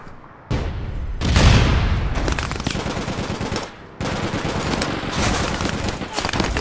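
Rapid automatic gunfire in the video game APB Reloaded, loud sustained bursts of shots with a heavy boom early on and a brief pause before firing resumes.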